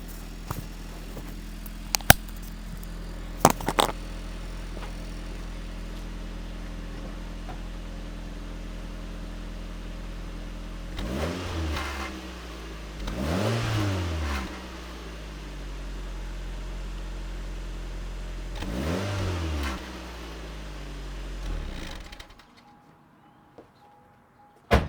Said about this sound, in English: You could hear the stock exhaust in all its glory.